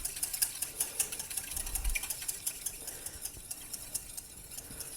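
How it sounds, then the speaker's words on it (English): A whisk clicks quickly and repeatedly against a bowl as olive oil is added to a German-style salad dressing, a faint, steady rhythmic tapping with no voices. "And then as you whisk, just add a little bit of olive oil"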